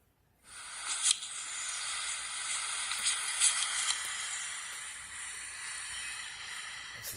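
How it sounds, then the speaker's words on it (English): Waterfalls on either side, in foggy surroundings, pour with a continuous soft broadband hiss that starts abruptly and holds steady, with no talking. "That's the sound of the waterfalls."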